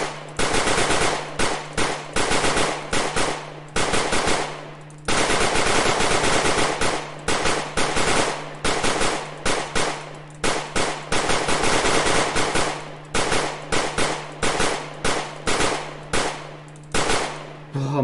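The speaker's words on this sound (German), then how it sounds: "So, ballern wir noch in die Menge." Rapid automatic gunfire pouring into a zombie horde in the game Zombiehaus, loud sustained bursts with short pauses between them, continuing for the whole stretch with no talk.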